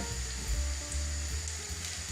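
Yeast-raised apple fritters frying in oil in a pan on the stove, a steady soft sizzle with a low background hum, faint and continuous without voices.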